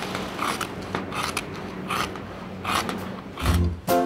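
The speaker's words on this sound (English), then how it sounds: "Listen to the sound of the scissors." Scissors snip through a PVC sheet that is being cut into floor-pad pieces for soft play equipment. The cuts come as short, crisp crunches in an irregular series, loud and close, with no talking.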